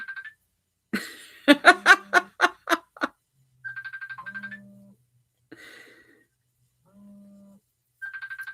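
A phone ringtone plays in repeated bursts of electronic melody and beeps with pauses between, fairly close and alone with no talk over it.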